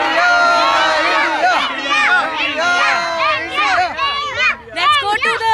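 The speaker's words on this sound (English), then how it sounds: "And look at the crowd who've assembled here" A crowd of children and adults gathered in a residential township in Hyderabad for an India-Pakistan cricket match, loud overlapping chatter and excited voices close by, steady throughout with people talking over one another.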